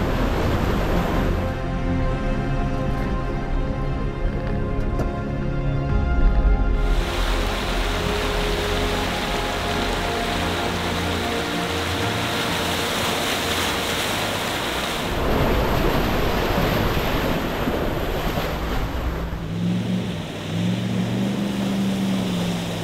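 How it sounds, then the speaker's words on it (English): An off-road vehicle pushes along a creek trail flooded with overflow that has washed out the track, its engine rumbling steadily under continuous splashing and rushing water, loud and close throughout with surges in intensity. "This section of the trail is flooded with overflow from the creek, which has washed out the track"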